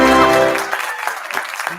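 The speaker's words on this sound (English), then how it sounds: "You even got applause and a right answer sound from the sound guy" A canned applause sound effect fired off by a studio sound operator, starting with a brief sustained tone and then a short burst of clapping over roughly two seconds, fairly loud.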